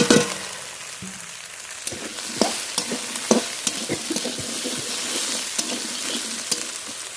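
Cut okra hitting hot oil spiced with cumin and green chilli paste, a steady close sizzle broken by sharp scraping clatters of a spatula stirring the pan.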